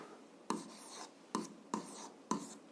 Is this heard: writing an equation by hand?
yes